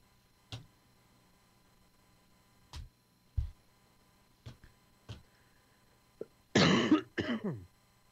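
Several isolated coughs break a quiet room at uneven intervals, ending in a louder, rougher burst of coughing and throat clearing.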